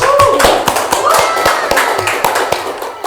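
Brief burst of clapping hands, a crowd applauding with sharp, rapid claps for a few seconds.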